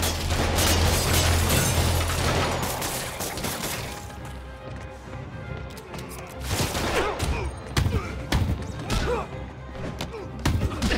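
Criminals fire guns in Marvel's Spider-Man Remastered, a dense stretch of rapid overlapping shots and thuds that stays loud throughout, with game noise and brief voices mixed in.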